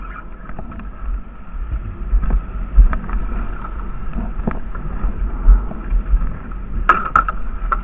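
Wind gusting while fishing for redfish on a cold day, low buffeting rumble hitting the microphone in uneven bursts, with faint water and boat knocks and no talk.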